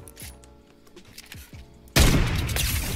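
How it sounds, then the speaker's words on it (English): A rocket launcher in Fortnite fires after a few lighter thumps, followed by a sudden loud, broad explosive blast that roars on to the end. "Guys, I gotta show you that rocket."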